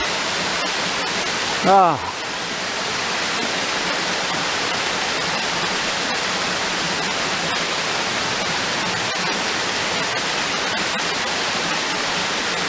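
A low-water waterfall in a wooded valley gives a steady, soft rushing hiss, even and unbroken throughout, with a short voice-like whistle briefly rising over it early on.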